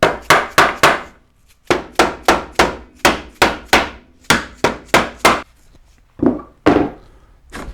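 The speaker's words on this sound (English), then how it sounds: "I'm going to use a soft-faced dead blow hammer here just to gently tap that ski off" A series of sharp taps from a soft-faced dead blow hammer on a Pilot TS snowmobile ski, loud and close, in quick bursts of several blows with short pauses between, ending with a couple of heavier knocks.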